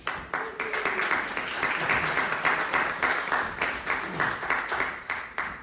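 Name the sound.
audience applause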